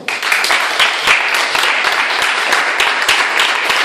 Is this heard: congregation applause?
yes